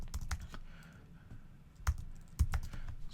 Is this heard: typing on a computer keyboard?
yes